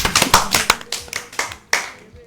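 Several pairs of hands clap in an uneven run of sharp, close smacks during a Yoruba storytelling session, with a voice talking faintly underneath.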